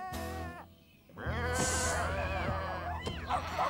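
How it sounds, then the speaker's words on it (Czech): Cartoon sheep in the Bob the Builder children's series bleat in wavering, voiced cries, loud and close, several overlapping calls over about four seconds with some other animated animal and background sound. "Další ovečka pana Okurky."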